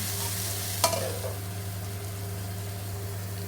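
Steady stirring of tomatoes and green chillies in a pan with a soft sizzle beneath a constant low hum, and one brief clink near the start.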